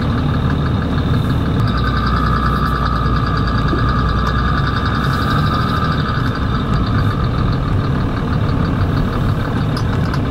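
A Cummins diesel engine swapped into a Ford truck idles steadily and fairly loud throughout, a constant low rumble with a faint ticking clatter on top, no voices.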